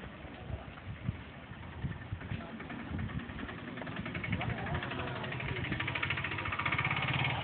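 A vehicle engine starts and runs, a steady low rumbling idle that builds slightly louder toward the end, heard close and continuous with no clear talk over it.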